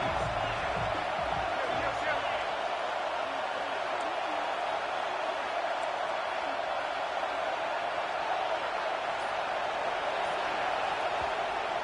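A large football stadium crowd roars steadily on third down at a Minnesota vs Duke game, a dense, continuous wash of cheering and noise that holds loud throughout with no pauses.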